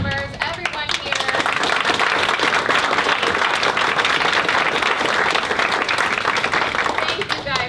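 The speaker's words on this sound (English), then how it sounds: "let's have a big round of applause for all the teams, the cast members, everyone here." Loud, dense applause from a crowd honoring teams at a cooking challenge event, steady sustained clapping that fills the room for several seconds, with some voices underneath.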